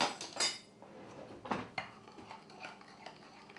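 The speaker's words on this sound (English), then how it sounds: "Just get a spoon out to mix it with." A metal spoon clinks and scrapes against a cup while stirring flour and water into a sourdough starter, several quiet knocks and taps followed by softer scraping, with no voices.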